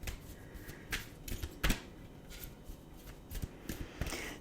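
Tarot cards being handled and drawn from a deck, close papery flicks, slides and soft snaps in irregular bursts, fairly quiet.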